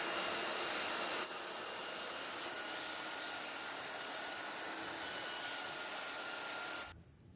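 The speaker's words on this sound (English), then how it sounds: "This belt sander is quite heavy." A heavy belt sander smooths a wooden towel ladder, giving a loud, continuous whirring roar at close range that holds steady for several seconds before cutting off near the end.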